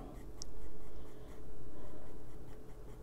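Close, steady scratching of an Umber coloring pencil drawing tiny lines on thin coloring-book paper, with a brief dip between two sustained strokes.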